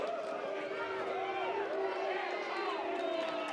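A lively baseball stadium crowd at a North Carolina vs. USC NCAA super regional game, a steady roar of many voices with scattered shouts and cheers, sustained and loud throughout.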